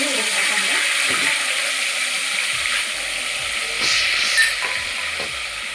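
Garlic paste frying in hot oil for chicken biryani, a steady broad sizzle and hiss running throughout with occasional stirring scrapes and a brief louder spit near the end.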